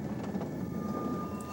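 An Irish Rail train in Ireland, 1999, runs along the line with a steady, fairly loud rolling rumble and a faint clatter, heard briefly.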